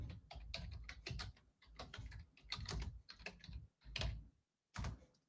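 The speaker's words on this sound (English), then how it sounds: "Typing with a mic between you and the keyboard is always hard." Rapid typing on a computer keyboard with a microphone in the way, uneven bursts of close, clacky keystrokes broken by short pauses, no speech.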